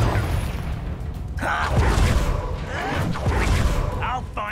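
In Hogwarts Legacy, the Confringo fire spell sets off explosions amid combat. Dull booms and whooshing bursts sit under continuous loud game noise with voices talking over them.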